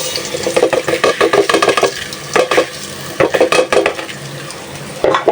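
Rice for pulao fried in soybean oil, stirred with a wooden spoon: a close, rhythmic scraping and clattering in repeated bursts over a soft sizzle, with no talk.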